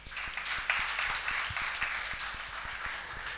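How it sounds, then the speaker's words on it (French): A small panel audience gives light, scattered clapping for a guest at a local-products event in Cotonou, Benin. The claps are faint and distant, with sparse individual hand claps standing out against a quiet room. "que je vous prie d'applaudir"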